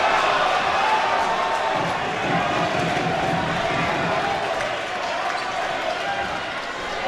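A basketball crowd in a men's high school gym reacts to a blocked shot on a fast-break layup, a steady roar of voices and cheering that holds loud throughout and eases slightly near the end.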